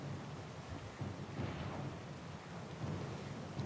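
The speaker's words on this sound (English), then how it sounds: "Storm's pretty loud." Thunderstorm in the video game Pillars of Eternity II: a steady roar of heavy rain with low rolling thunder that swells around the middle and again near the end, loud and continuous throughout.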